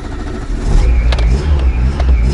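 Volkswagen Golf 1.5 engine running loud and close after a battery-assisted start, with a steady low rumble and a brief rev swelling midway, no talking.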